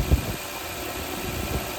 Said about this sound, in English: It's just idling a little high.